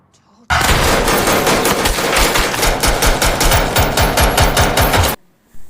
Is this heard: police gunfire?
yes